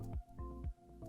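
Water dripping and splashing onto a dished water stone being lapped flat, a few soft wet plops in quick succession, close and quiet over a low steady background hum.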